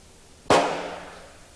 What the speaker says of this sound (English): The friction primer acted like a giant kitchen match and set off the propelling charge.